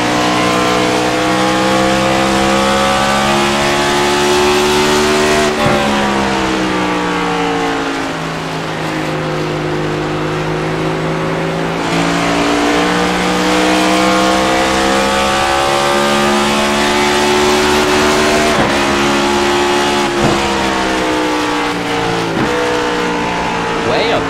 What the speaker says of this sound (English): You can hear the gear changes taking place.